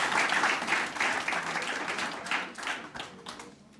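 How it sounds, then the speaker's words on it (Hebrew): An audience at a religious lecture in Ramat Gan breaks into applause, lively rhythmic clapping that starts strong and gradually thins and fades over a few seconds. "תנו לו כפיים, מגיע לו"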